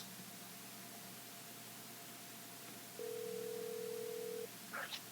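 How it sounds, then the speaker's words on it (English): A telephone rings once as a steady tone on a faint, hissy line during a call, with a short burst of sound right after it and no talking. "let's see if we can get him on the phone"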